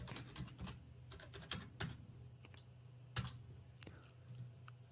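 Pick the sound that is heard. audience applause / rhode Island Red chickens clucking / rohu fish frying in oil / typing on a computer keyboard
typing on a computer keyboard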